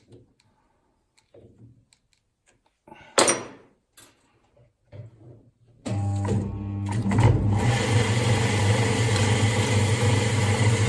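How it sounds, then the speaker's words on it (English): A small lathe spins up an SU carburettor part for a Datsun 1200/1400, a steady whirring machine drone with a low hum that starts abruptly after quiet handling noises and runs continuously. "So okay, I just put it in my little lathe."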